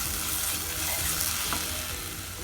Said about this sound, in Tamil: மாங்காய் ஒரு நல்லா 5 நிமிஷம் நல்லா வதங்கட்டும்.